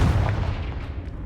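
A Confringo blasting-spell explosion in the Hogwarts Legacy video game makes a loud, booming low rumble that starts at full strength and slowly fades over about a second.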